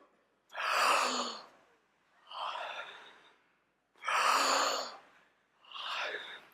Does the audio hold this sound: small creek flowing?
no